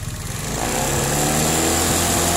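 A motorcycle engine revved up during a charging-system check for over-voltage, rising quickly from a putter into a loud, sustained high-pitched drone close by.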